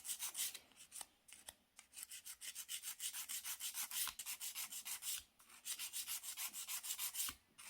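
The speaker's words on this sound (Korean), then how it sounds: "이번에는 이렇게 끝에서부터 말고 이쪽 부분만 먼저 갈게요" A nail file rasps rapidly back and forth across a gel nail extension while shaping a coffin tip, making quick, even scratchy strokes in close, steady runs broken by brief pauses.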